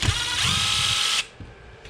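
A power screwdriver whirs for about a second, backing screws out of an EREVO 2.0 RC car during front differential repair, then stops abruptly, followed by a few small clicks of parts.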